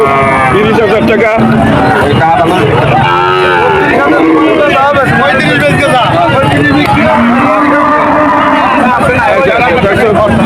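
At a cattle market, a pregnant cow and other cattle moo repeatedly and loudly among a dense crowd of voices and market babble, the calls rising and falling throughout.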